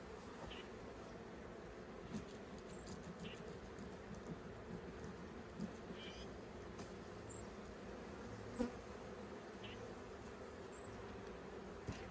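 Honey bees drone steadily around an open hive during an inspection, a continuous low buzz with occasional louder passes close by and light handling noises.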